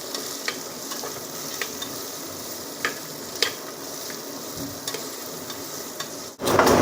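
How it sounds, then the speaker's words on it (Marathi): Onions fry steadily toward golden brown in a pan, a continuous sizzle broken by occasional sharp scrapes and taps of a stirring utensil, with a louder clatter near the end. "आणि याला आता चांगलं आपल्याला गोल्डन ब्राऊन करून घ्यायचं आहे कांद्याला"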